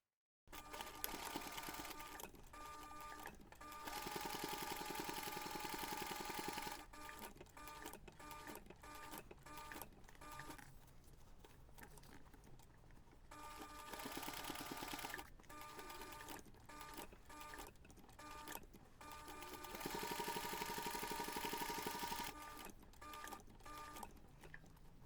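A sewing machine top stitches along the finished seam of a fabric flexi coin pouch in steady runs of rapid mechanical whirring, broken by short pauses and stops, loud and close.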